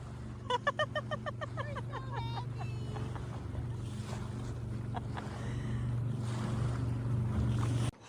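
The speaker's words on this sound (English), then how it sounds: "Here we are on Sully, out for a dinghy ride." A dinghy running across open water near a 1993 Hatteras 70 motor yacht off Michigan, with a steady low engine drone and wind and water rush throughout; a voice cheers briefly near the start.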